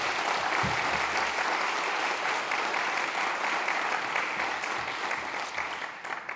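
A forum audience on heritage legislation applauds loudly and steadily, a dense wash of clapping hands that carries on throughout and eases slightly near the end.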